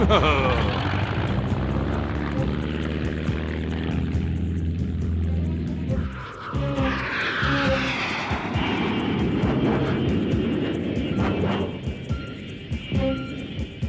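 An animated airplane drones steadily in flight, a loud continuous engine hum that shifts pitch midway as other cartoon effects and music-like tones layer over it.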